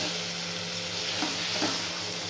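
Water goes into a pan of Bengali fish curry made without yogurt, and the pan answers with a loud, steady sizzle and hiss, plus a couple of soft stirring scrapes.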